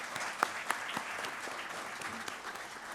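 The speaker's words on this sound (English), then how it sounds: "Please give them a huge round of applause." A panel discussion audience gives faint, scattered applause, a few sharper individual claps standing out from a soft, distant patter over about three seconds.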